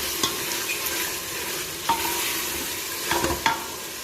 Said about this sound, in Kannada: ಬೆಳ್ಳುಳ್ಳಿ ಶುಂಠಿ ಹಸಿ ವಾಸನೆ ಹೋಗಿ ಈರುಳ್ಳಿ ಸ್ವಲ್ಪ ಕೆಂಪಗಾಗೋ ತನಕ ನೀಟಾಗಿ ಫ್ರೈ ಮಾಡ್ಕೋಬೇಕು